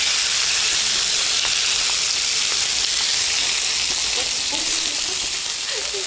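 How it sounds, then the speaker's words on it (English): Beef stir-fries in sesame oil in a pot for a tteokguk soup base, giving a loud, dense, continuous sizzle with small crackles throughout and no voices. "So you put sesame oil and you stir fry the beef that you put."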